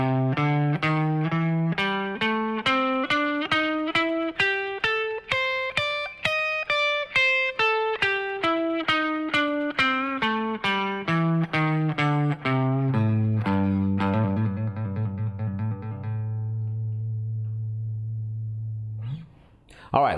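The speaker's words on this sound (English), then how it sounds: "this is the A blues scale with an extended range" Electric guitar running an A blues scale across an extended range, evenly picked single notes climbing up and back down in a steady stream, ending on a long low sustained note before a sharp final sound.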